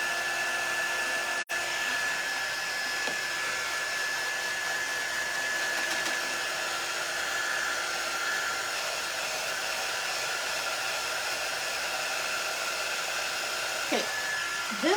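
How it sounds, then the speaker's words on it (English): A quick dry heat tool that doesn't get very hot runs steadily while drying paint on a handmade greeting card, a constant close blower hum with a brief click near the start. "This is our quick dry tool. It doesn't get super hot, so it's going to take a while to dry that."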